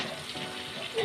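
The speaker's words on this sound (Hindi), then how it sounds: "ये देखिए, हमारा घी गर्म हो चुका है। अब इसमें डालेंगे बेसन।" Gram flour (besan) sizzling as it goes into hot ghee for besan barfi, a steady close frying hiss over about a second.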